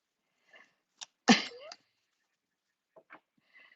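A single loud sneeze bursts out near the microphone, framed by a few faint breaths and small sounds on an otherwise quiet line.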